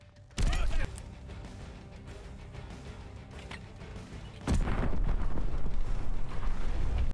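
A grenade is lobbed and detonates in a Call of Duty Vanguard search-and-destroy match: a sharp burst near the start, low rumble, then a second loud, sustained blast near the end, with no talking.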